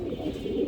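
An Afsan Beauty pigeon gives a single short, low, close coo.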